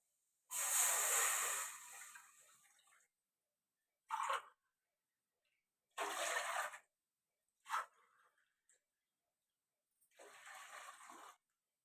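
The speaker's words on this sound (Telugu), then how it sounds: "ఆ గ్లాస్ కొలతతో మూడు గ్లాసులు నీళ్ళు వేస్తాం" Three glasses of water poured into a pot in several separate gushing bursts with pauses between them, a splashing hiss close by and no voices.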